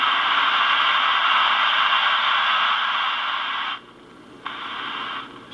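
A Juliette NA-1114 radio, its volume control just reassembled and temporarily wired, plays a steady band of hiss and static that suddenly cuts out near the end, then returns briefly before fading again.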